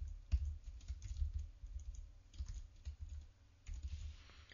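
Typing on a computer keyboard while writing CSS, with soft irregular key taps in short bursts, some pauses between them, fairly quiet and close.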